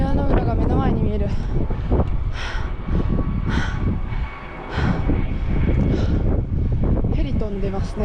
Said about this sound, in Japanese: ヘリ飛んでますね。